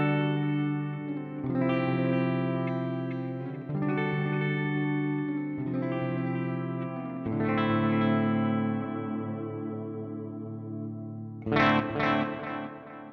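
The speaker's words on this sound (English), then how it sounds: "To expand your reverb possibilities, check out the RV6 reverb from Boss" Sustained electric guitar chords through a reverb pedal, drenched in lush reverb, each strum ringing out with long washy tails, ending on a brighter accented chord.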